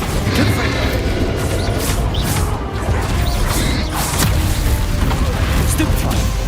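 Bombarda and Confringo spell blasts in Hogwarts Legacy crash and boom amid dense, continuous combat noise, with whooshing hits and a voice shouting over the fray.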